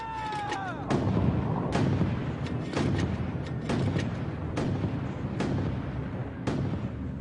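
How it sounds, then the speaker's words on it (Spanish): A Canadian platoon's mortars fire during the Korean War, giving about eight dull, evenly spaced booms at a distance over a rumbling battlefield background. "Con los disparos de mortero del pelotón de Forbes, los canadienses mantienen la línea."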